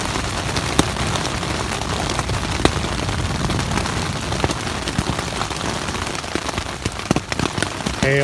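Heavy rain and hail pound steadily on a shelter during a monsoon-like storm in Big Bend Ranch State Park, Texas, giving a dense, unbroken roar broken by sharp, scattered hailstone impacts.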